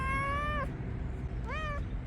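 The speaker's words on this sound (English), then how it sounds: "There's a cat, look." A cat on a Montevideo street gives two clear meows about a second apart, close by, over a steady hum of traffic and city noise.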